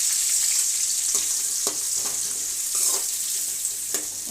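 Chopped onions and curry leaves fry in hot oil with mustard seeds, giving a steady, close hiss of sizzling broken by a few sharp clicks and scrapes of stirring; no one speaks.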